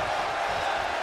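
Dense roar of an arena crowd cheering during a tag-team wrestling match in the WWE 2K20 video game, a steady loud wash of voices with no breaks.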